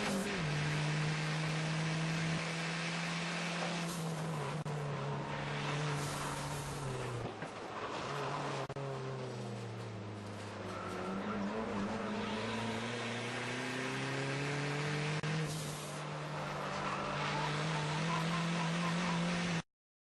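Touring race cars racing in the Nitto Tires United States Touring Car Championship, a continuous loud engine roar heard from onboard, rising and falling in pitch as the driver shifts and brakes through the corners.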